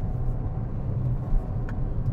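A Maruti Ciaz sedan pulling hard in third gear at full throttle, heard as a steady low engine and road rumble without a distinct rise in pitch.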